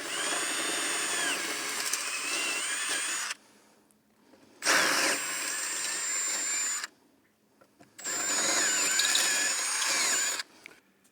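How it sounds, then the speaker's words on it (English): A power drill whines in three bursts, each lasting a few seconds, drilling through a boat's gel coat into foam, with short quiet pauses between them, close and loud. "we're only going to drill through the first layer of gel coat and a little bit of the foam"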